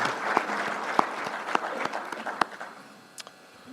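An audience at a village State of the Village event gives a round of applause for sponsors, a dense roomful of clapping that fades out over a few seconds with a few louder claps standing out.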